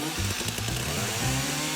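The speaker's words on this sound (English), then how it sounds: "Now cut it with a chainsaw." Chainsaw cutting through a heavy zelkova log for a table leg, a steady loud droning whine that holds without break, close up, with no voices.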